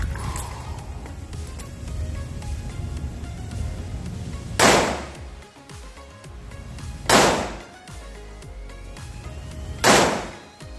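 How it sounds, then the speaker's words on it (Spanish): Pistol shots fired at a target on a range, a handgun fitted with a SIG Sauer Romeo 2 reflex red dot sight: three loud, sharp reports spaced a few seconds apart over a low background hum, with no talk. "Vamos a ver 5 tiros corridos ahora."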